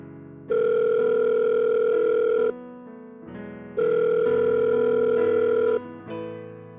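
A phone rings with an incoming call, two long, loud electronic ring bursts separated by a short pause, with no voices.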